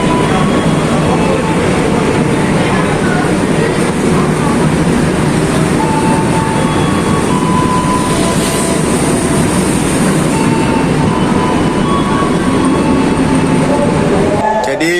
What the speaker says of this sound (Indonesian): Jam 1:24 kereta api Wijaya Kusuma dengan tujuan akhir stasiun Cilacap diberangkatkan kembali dari stasiun Jember.